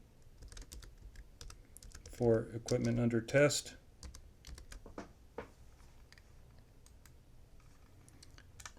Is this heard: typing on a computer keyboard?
yes